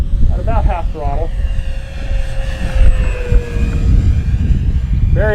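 An FMS P-47 Razorback RC model warplane, about 980mm span, passes down the runway inverted at half throttle with a steady electric whine, loud and near, while someone talks over it.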